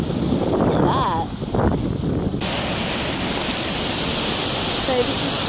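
Icelandic waterfall roaring as a loud, steady wash of broadband noise close by, with wind buffeting and faint voices underneath.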